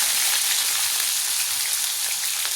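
Onions and tomatoes hit hot oil in a pan for a fish curry, giving a loud, steady, close hiss of frying that runs unbroken from start to finish.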